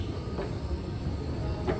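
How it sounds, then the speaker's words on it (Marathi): Mumbai Aqua Line Metro 3 underground train rumbling steadily at close range, a continuous low rolling drone with faint brief squeals and no talking. "ही आहे ॲक्वा लाईन मेट्रो 3"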